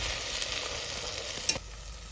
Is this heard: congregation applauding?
no